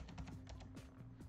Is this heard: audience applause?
no